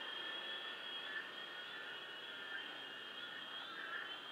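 A Syma S39 Raptor toy RC helicopter flying indoors in a house, its small motors and rotors producing a steady, faint high-pitched whine that holds evenly throughout.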